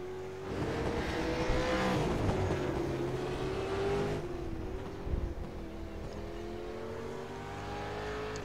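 Several race cars roar around the South Boston enduro track in a steady, loud engine drone, pitches rising and falling as cars pass close by and throttle on and off.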